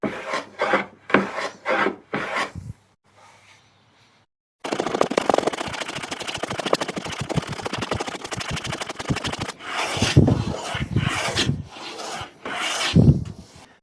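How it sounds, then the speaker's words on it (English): A hand plane works across the grain of a wooden board and bevels its edge, giving repeated rasping strokes: a few short passes, a pause, then a long run of rapid scraping strokes close by. "I'm gonna be planing across the grain so I can hold it better in my clamp, but I have to bevel this far edge first"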